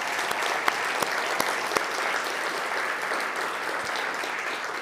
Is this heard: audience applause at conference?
yes